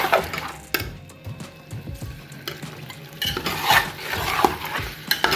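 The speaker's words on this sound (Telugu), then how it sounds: "మనం ఫ్రై చేసిన మసాలాలో ఇప్పుడు దీన్ని వండుదాము" Boiled country chicken is stirred into fried masala in a pot, with a utensil scraping and clinking against the metal in uneven bursts over a low frying hiss.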